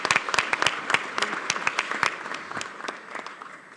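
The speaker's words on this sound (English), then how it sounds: "Could we get another round of applause for the co-president?" Audience in a formal chamber at a joint bureau meeting applauds the co-president, a steady wash of many hands clapping with sharp individual claps standing out, moderately loud and continuous.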